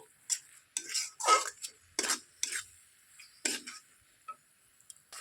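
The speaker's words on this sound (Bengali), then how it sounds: "এই পর্যায়ে দেখো আমি ভালোভাবে কষিয়ে নেবো সর্ষা আর পোস্তটা ভালো করে কষিয়ে নিচ্ছি" Mustard and poppy seed paste being sautéed in a pan for a banana peel dish, with a spoon scraping and clinking against the pan in short, irregular strokes, close and fairly quiet, with no talking.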